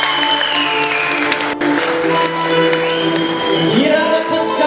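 Concert audience applauding and cheering for the singer at a live show in Aktau, a dense, loud wash of clapping with scattered shouts and whoops running throughout.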